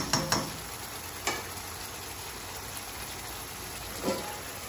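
Tomatoes frying in hot oil in a pan over a medium-low flame: a soft continuous sizzle with a few sharp clinks and scrapes of stirring, fairly quiet and without speech.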